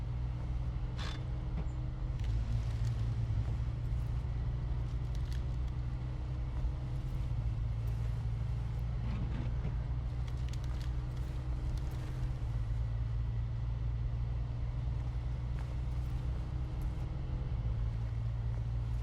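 A heavy truck engine in the SnowRunner video game drones steadily as the truck pushes through trees, a continuous low rumble with occasional small knocks and creaks over it.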